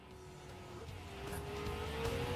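A car in Gran Turismo 7 braking with tires squealing in a thin sustained whine over steady engine drone, building gradually in loudness.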